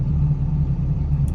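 A 24-valve diesel truck engine on an automatic service truck with its catalytic converter removed rumbles at a steady, loud idle, a deep continuous drone with no voices.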